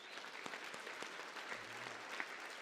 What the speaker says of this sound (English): Thank you, and round of applause.